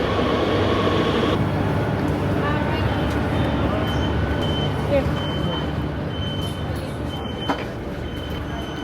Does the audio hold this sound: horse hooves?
no